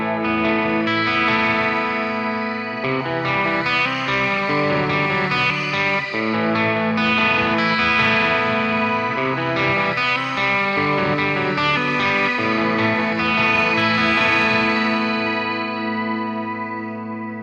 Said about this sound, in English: This is the new reverb, which is a shimmer effect